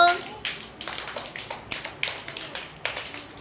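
Children at a classroom fruit-naming game clap their hands in a brisk, regular rhythm, a row of sharp close claps repeating about every third of a second, with faint young voices underneath.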